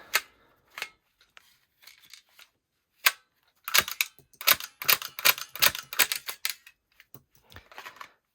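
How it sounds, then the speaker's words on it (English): A Taurus GX4 XL shell-ejecting blowback toy blaster fires a few spaced sharp snapping shots, then a rapid close, loud burst of clacking pops, followed by a few fainter clicks. "get it loaded and take a few shots"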